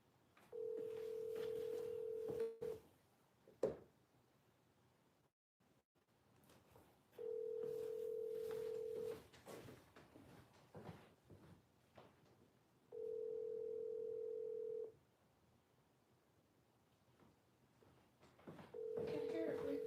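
Four long steady electronic tones from a phone's voicemail system, each lasting about two seconds with gaps between, played over background road or cabin noise inside a vehicle.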